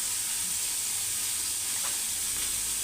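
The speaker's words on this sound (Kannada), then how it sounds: "ಇಲ್ಲಿದು ಒಗ್ಗರಣೆ ರೆಡಿ ಆಗೈತಿ." A hot oggarane tempering for poha sizzles steadily in a pan, giving a continuous close, loud frying hiss with no talking.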